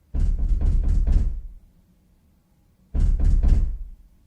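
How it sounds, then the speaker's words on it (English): Someone knocks at a front door, five quick loud raps, then a pause and three more, close and hollow-sounding with silence in between. "Someone knocked again and again"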